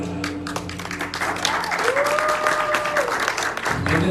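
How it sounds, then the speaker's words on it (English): Sustained, dense applause from an audience at a homecoming press conference for Universal Woman 2024, steady and fairly loud throughout, with a faint voice tone rising briefly in the middle. "one more round of applause, please"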